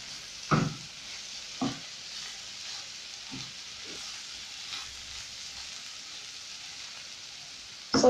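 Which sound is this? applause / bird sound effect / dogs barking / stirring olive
stirring olive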